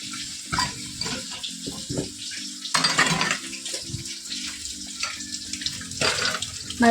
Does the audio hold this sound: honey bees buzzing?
no